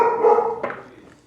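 Dogs barking in a short burst, a couple of sharp woofs close by at fairly high level, then tapering off.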